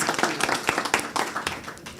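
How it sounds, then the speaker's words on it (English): Audience clapping for spelling bee contestants, a short burst of dense, fairly close applause from a modest crowd, with no talking over it. "Let's give both of them a round of applause."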